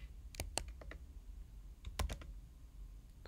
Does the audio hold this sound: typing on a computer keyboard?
yes